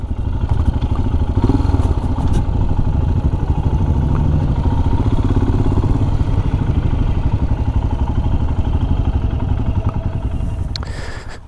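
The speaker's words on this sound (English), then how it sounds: "So here is that vintage bike with its vintage rider." A vintage 1960 AJS motorcycle drones loudly and steadily nearby, its engine thrumming with a clattery mid-pitched rumble that eases slightly toward the end.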